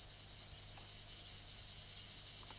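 Crickets chirp in a steady, pulsing shrill trill in a pine grove at the ancient Olympia site beside the Alpheios river, loud and continuous with no voices.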